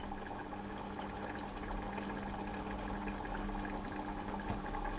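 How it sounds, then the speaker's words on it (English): A fig mixture boils in a pan on the stove, making soft, continuous bubbling and hissing at a low level, with no voices. "So as you can see, that's boiling"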